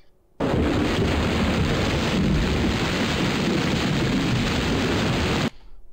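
Heavy rain and a rumbling thunderstorm in the 1995 DOS game Zombie Dinos From Planet Zeltoid: a loud, dense, steady wash of noise that starts abruptly, holds for about five seconds, then cuts off.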